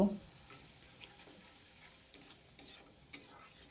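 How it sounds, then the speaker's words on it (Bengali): Spice paste for rohu fish curry fried with a splash of water and stirred, a faint low sizzle with soft scraping ticks of the spatula in the pan. "অল্প জল দিয়ে দিলাম এরপর মশলাটাকে খুব ভালোভাবে কষিয়ে নেব"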